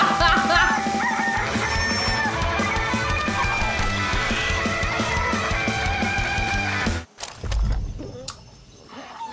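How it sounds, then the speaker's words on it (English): A rooster in the video game Far Cry 6 crows and clucks loudly over busy game music and sound effects, then the music cuts out and a short rumble with quieter noises follows. "that there don't seem like a normal sound for a chicken to make. Or a rooster."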